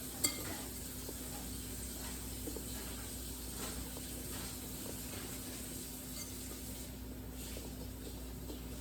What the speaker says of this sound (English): we're going to mix that together with a spoon